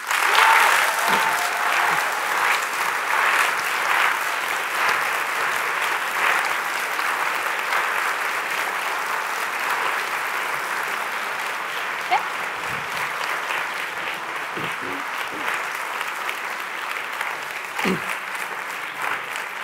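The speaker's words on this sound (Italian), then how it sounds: "vi chiedo un applauso per Giuditta Pini" A studio audience applauds steadily for a podcast guest, a dense, even wash of clapping that holds for the whole stretch at close range, tapering only slightly toward the end.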